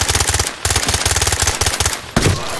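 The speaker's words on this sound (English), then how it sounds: "You come around shooting towards me, bro." Rapid automatic gunfire from a teammate in the tactical shooter Ready Or Not, loud and close, with sustained bursts broken by a brief gap and a heavier final burst.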